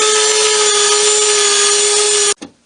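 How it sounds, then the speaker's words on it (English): A belt sander fitted with a 120 grit belt smooths the seams between wooden boards on a small dresser, giving a loud, steady whine and rasp that holds evenly before cutting off abruptly near the end. "The seams between the boards are sanded smooth with a belt sander with a 120 grit sanding belt."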